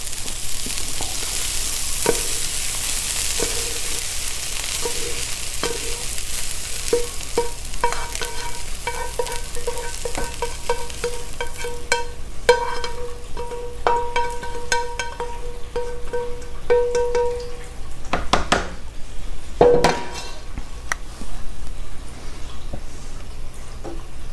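Spaghetti sauce in a pan being stirred as ingredients are added, a low sizzle under repeated clinks and scrapes of a spoon, building into a busier burst of knocks toward the end.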